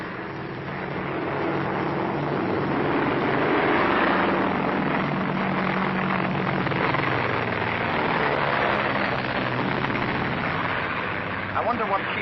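A propeller airplane drones steadily overhead, a loud, continuous engine roar that swells and holds for several seconds, with no voices heard.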